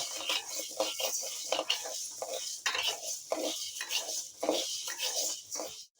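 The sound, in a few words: urad dal being dry-roasted in a pan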